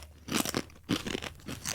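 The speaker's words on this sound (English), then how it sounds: "You can hear the crunch. That was a huge crunch" Close, crisp crunching of a white corn masa chip being bitten and chewed, several loud brittle snaps in quick succession with no talking over them.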